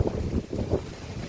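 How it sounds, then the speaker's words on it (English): Gusty wind buffets the microphone outdoors at a beehive apiary, a steady low rumbling roar with uneven surges and no talking. "The wind's blowing that way, and I'll just have to hope and pray that the camera doesn't go over, because it is quite gusty, the wind."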